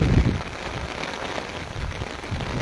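Heavy downpour in Taunsa Sharif, a steady dense hiss of rain striking surfaces with a few louder splashy bursts, continuous and close with no talking.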